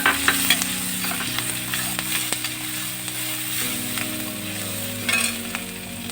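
Onions, green chillies and turmeric with a pinch of salt are stirred and sautéed in a pan for a pork roast, giving a steady close sizzle with scraping stirs and a few sharper knocks over a constant hum.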